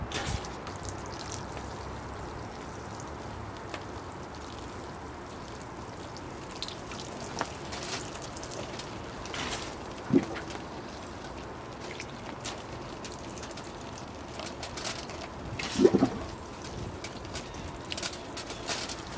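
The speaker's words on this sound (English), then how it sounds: "All right, here I go with the water." Water poured over a newly planted bonsai tree in its pot: a soft, continuous wash of trickling and splashing runs the whole time, with a couple of faint louder drips and taps and no talking.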